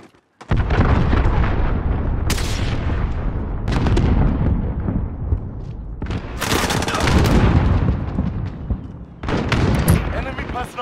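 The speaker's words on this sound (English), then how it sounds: "Enemy cruise missile incoming." Heavy, sustained rumbling explosions from an enemy cruise missile strike in Call of Duty Modern Warfare (2019), loud booms rolling in several overlapping waves with cracking debris bursts throughout.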